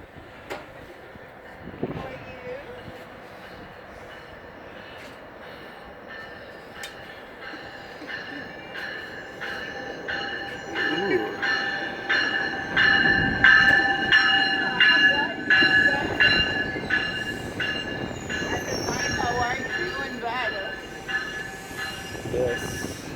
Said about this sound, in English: So we'll get a shot of the train arriving.